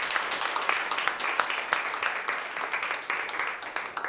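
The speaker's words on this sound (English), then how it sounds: "So, round of applause for Laura Lopez." Audience at a blockchain meetup applauds a lightning talk speaker, a dense, steady patter of many hands clapping for about four seconds, with faint voices mixed in.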